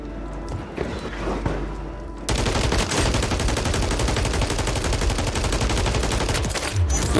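Sustained automatic gunfire in Call of Duty: Warzone, a dense, loud burst of rapid shots that starts abruptly after a quieter opening of scattered shots and keeps rattling on.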